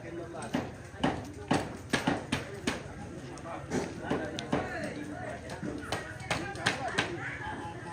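Horse hooves clip-clop in a steady, uneven rhythm of sharp taps on hard ground, close and continuous, while people talk throughout.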